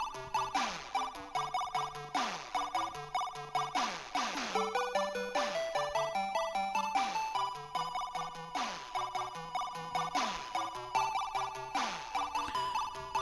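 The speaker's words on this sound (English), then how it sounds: "that is the sound of the actual motorbike driving" Repeating electronic beeps and warbling tones from a ZX Spectrum 16K motorbike game, racing through denser and denser trees, loud and continuous, with rapid pitch sweeps recurring roughly every second.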